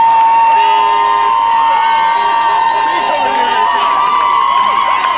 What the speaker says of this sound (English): Ladies and gentlemen, will you please practice a round of applause?